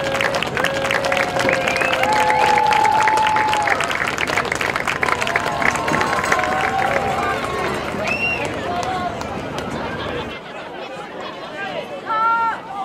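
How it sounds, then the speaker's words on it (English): A school crowd at a middle school sports event applauds eighth graders, with dense clapping mixed with chatter and excited voices, which thins out toward the end before a short final swell. "Let's give them all one more round of applause."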